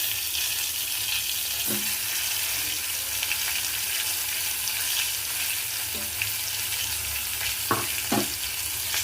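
Brinjal pieces frying in a pressure cooker give a constant soft sizzle and hiss throughout, broken by a few faint clinks and scrapes of stirring.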